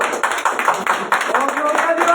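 Church congregation clapping during a Spanish-language sermon, brisk rhythmic applause mixed with voices calling out, fairly loud and close throughout.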